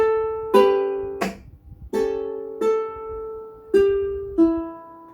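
Bright plucked ukulele notes ring out one after another in a short phrase, with quick strums and a note changing pitch as a string is pulled off, alone.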